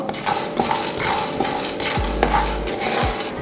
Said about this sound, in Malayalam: ഇത് നന്നായിട്ടൊന്ന് ചൂടായിട്ട് വരണം, മൂത്ത് വരണം, മണമൊക്കെ മാറി നന്നായി മൂപ്പിച്ചെടുക്കുക.